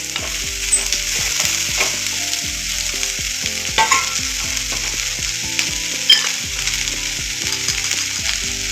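Finely chopped green beans stir-fry in a pan, giving a loud, steady sizzle with repeated scraping and clinking of a spoon stirring against the metal, close by and free of talk.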